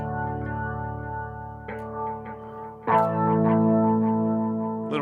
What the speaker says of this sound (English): Another organ-y space sound.